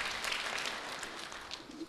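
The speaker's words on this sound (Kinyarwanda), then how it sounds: "Mukomere amashyi Nyakubahwa Perezida wacu" An audience at Rwanda's national dialogue council applauds the President. Dense, steady clapping from many hands continues throughout at moderate loudness, with no talk over it.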